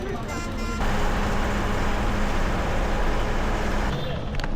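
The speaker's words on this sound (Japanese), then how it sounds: "相変わらずプープーうるさいバスですが、もう慣れました。" Noisy bus riding through Bangladesh traffic, a loud continuous engine and road rumble with surrounding vehicle noise and a tonal horn-like sound near the start and end, close and unbroken.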